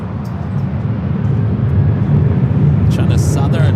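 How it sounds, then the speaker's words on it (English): China Southern Boeing 777-300ER passenger jet arriving at LAX from Guangzhou, a steady low engine roar that swells slightly toward the end, with a brief higher burst near the close. "This is a passenger 777 at 300ER coming in from Guangzhou."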